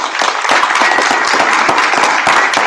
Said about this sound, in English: y'all give Marjorie a round of applause